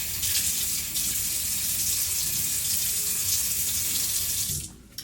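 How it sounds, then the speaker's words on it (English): A bathroom tap runs in a steady, close, loud stream while someone washes their face, then cuts off near the end with a brief drip-like sound. "let me go ahead and wash my face real quick"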